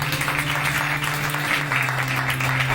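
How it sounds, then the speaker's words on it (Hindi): Congregation applauding at a Good Friday church service, a steady dense wash of clapping with no breaks, a low sustained tone running beneath it. "एक दफा फिर मैं सबकी तालियां"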